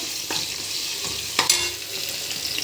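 Ginger-garlic paste frying in a pan for chicken biryani, a steady close sizzle broken by a couple of louder scrapes and stirs, with no talking.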